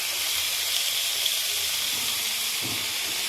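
Chicken pieces, about a pound and a half, dropped into a hot pan for a bhindi chicken dish, giving a steady, loud broadband sizzle that carries throughout with no talking.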